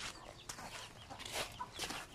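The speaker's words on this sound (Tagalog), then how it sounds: "Pakainin natin yung manok ngayon" Busy, noisy clucking from chickens in the foreground, irregular bursts over a broadband rustle, no talking.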